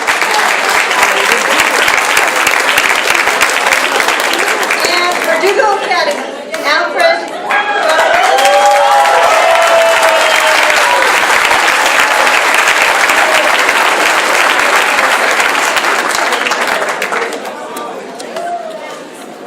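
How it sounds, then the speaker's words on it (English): Loud, sustained applause and cheering from a crowd greeting graduates at a July 2013 graduation ceremony. A voice on a speaker announces over the noise for a moment, then the clapping continues strongly and thins toward the end. "Give a round of applause to the graduates of"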